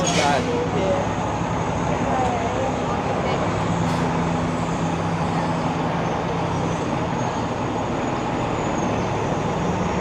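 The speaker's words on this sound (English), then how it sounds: "So I've caught up to a cluster of bunched up, stuck buses." Bunched-up city buses sit stuck in heavy traffic on Spadina Avenue, giving a continuous loud rumble of engines and road noise up close, with a brief hiss of air near the start.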